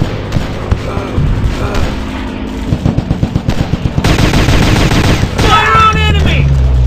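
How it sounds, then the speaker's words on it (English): A mobile gun shooter video game fires rapid gunfire bursts, close and loud, with rhythmic machine-gun volleys, booms and metallic effects, and a voice talks in between. "I'm shooting these fools up!"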